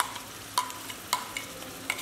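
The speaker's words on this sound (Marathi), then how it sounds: "पहिला आपल्याला मसाला हा छान भाजून घ्यायचा आहे" Spice masala for aloo matar rassa being stir-fried in a pan: a soft steady sizzle punctuated by three or four brief scraping clicks of the spatula, close and moderately loud, with no speech.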